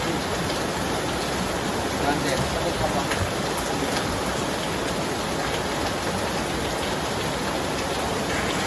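Rain falling steadily, a dense continuous hiss of drops on surfaces that stays close and even throughout, with faint voices murmuring in the background.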